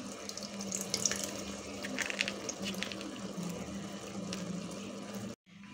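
About 4.5 cups of water pour steadily into a pot of rice for cooking, a continuous close splashing gush that stops abruptly near the end.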